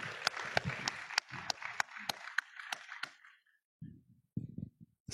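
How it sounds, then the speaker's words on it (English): A conference audience applauds the speakers in a short burst of clapping that thins out and fades, with a few scattered claps after a pause. "first a warm applause for the present speakers."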